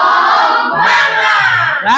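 A classroom of students shouting together in a loud, energetic group cheer, voices blending into a sustained rising and falling chant, close and forceful; individual claps are not distinct.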